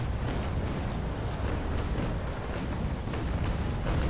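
Cannon broadside from a frigate in the naval combat game Naval Action, a loud dense rumble of heavy guns that roars steadily throughout with small bursts of impact on top.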